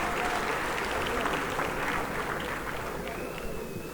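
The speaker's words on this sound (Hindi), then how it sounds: "जोरदार तालियां एक बार इनके लिए भी बजाई जानी चाहिए।" A large crowd at a political rally breaks into loud, continuous applause, a dense roar of clapping that holds steady and eases slightly near the end, with faint voices mixed in.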